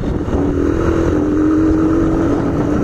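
A Honda XLR 125 motorcycle rides along a dirt road, its engine holding a steady, loud droning note with rumble and wind buffeting close to the microphone.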